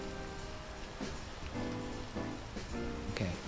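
Steady rain patters in the video game Peak, a soft continuous hiss of drops with a few louder taps, alone and fairly quiet.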